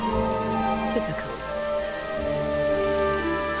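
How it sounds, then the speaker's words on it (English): Steady rain falls in the game Dragon Quest XI, a continuous patter at moderate level, with a tonal music bed underneath. "Why does it always start raining the second we get a chance to be alone?"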